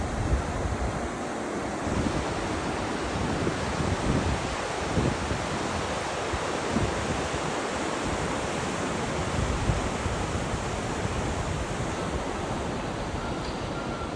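A river near a hot spring in Manali roars steadily throughout, a dense unbroken wash of rushing water mixed with wind buffeting the microphone.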